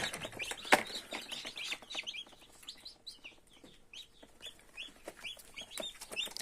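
A small cluster of newly hatched chicks in a box peep in quick, high-pitched chirps, cheeping quietly and continuously nearby.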